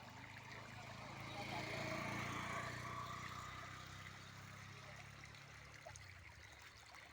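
Water trickles and flows steadily in a farm irrigation channel, a soft continuous gurgle at moderate distance with no talking.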